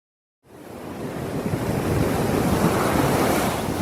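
Ocean waves wash onto a beach, a broad roaring surf that swells in after a moment of silence and holds steady with some wind rumble.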